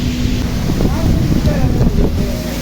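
Strong wind blowing across an open outdoor spot where manure is being cleared, a loud continuous rumble buffeting the microphone, with a voice talking over it.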